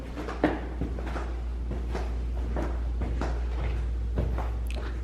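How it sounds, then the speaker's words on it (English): Soft slapping flip-flop footsteps repeat at a walking pace, fairly close, over a low steady hum, inside an empty house. "Sorry, hear my flip-flops."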